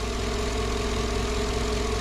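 A car engine idles steadily with a low, even hum, left running for a transmission fluid check; the sound is continuous and fairly loud throughout.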